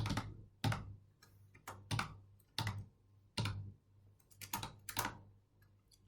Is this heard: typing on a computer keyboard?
yes